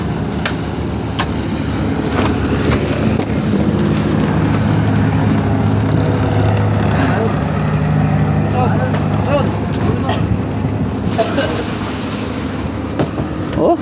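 Two boat engines run together in a continuous, rumbling drone throughout, with people talking over the steady mechanical noise.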